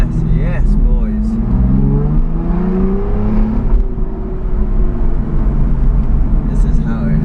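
An Aston Martin supercar engine in sport mode, heard from inside the cabin as a loud, deep drone with rising revs, and a voice talking over it.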